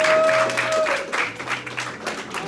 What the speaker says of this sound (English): let's clap it up for Christian.